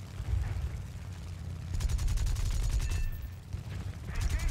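Rapid machine gun bursts from a Mitsubishi A6M3 Type 0 Model 22 Zero fighter in War Thunder, a dense rattling stream over steady engine drone, strongest in the middle and again at the end.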